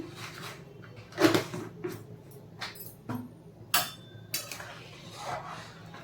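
Rice is mixed with salt in a pan at home, giving sparse, close clinks and knocks of a utensil against the pan in uneven bursts over a quiet background.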